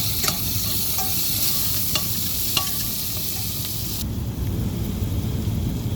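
Chopped onion and green chili sautéing in a pan for an egg masala: a steady, dense sizzle throughout, with a few spoon clicks early on, close and fairly loud, with no voices.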